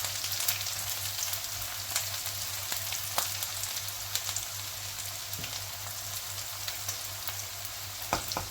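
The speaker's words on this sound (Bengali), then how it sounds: "জিরা ওগুলি আস্ত রসুন একসাথে কিছুক্ষণ ভেজে নিলে সুন্দর একটা স্মেল হয়" Cumin seeds and whole garlic fry in a pan, a steady close sizzle with scattered sharp crackles and pops throughout, with no voices.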